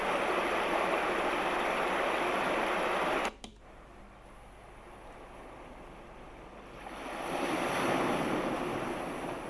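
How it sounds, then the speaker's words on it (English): Continuous ocean wave noise from a Sound Oasis S-6000 sleep sound machine's ocean night setting, a broad steady roar that dips briefly then swells back up as a wave builds louder near the end. "An ocean night."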